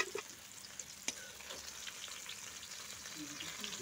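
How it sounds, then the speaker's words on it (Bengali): Bottle gourd pieces frying in hot oil give a steady, close sizzle with occasional sharp crackles and a faint stirring scrape, the frying noise continuous throughout. "এখন খুব ভালোভাবে ভাজা হয়ে গেছে। তো তেলটা ঝারিয়ে আমি লাউগুলোকে তুলে নিচ্ছি।"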